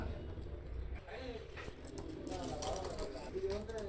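Pure golden pigeons and their chicks coo softly in low, rounded calls beneath steady talking, with faint background rustle throughout.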